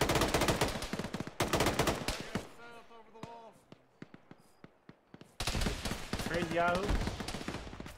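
Gunfire in the Arma military game, loud rapid bursts of shots at the start and end with a quieter stretch of scattered single cracks between, while people talk over it.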